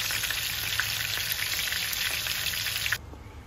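Chicken frying in oil until golden brown, a dense close sizzle and crackle that cuts off abruptly near the end, with no talking.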